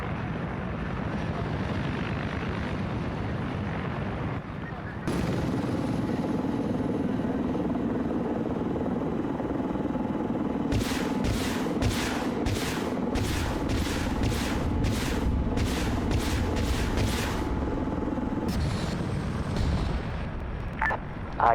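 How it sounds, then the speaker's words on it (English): Mi-24 helicopter rocket run striking a port in a military video game: a sustained rotor and engine drone, then a fast series of sharp rocket launches or impacts over roughly seven seconds, fairly loud and continuous with no voices. "the Russians just Mi-24 strike rocket run the entire port"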